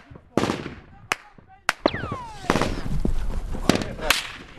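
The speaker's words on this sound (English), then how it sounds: "Taliban fighters appear further up the road and begin to fire at us" Soldiers exchange gunfire with Taliban fighters on a road, with sharp, loud shots and cracks in irregular bursts, some close and some more distant, over shouting voices.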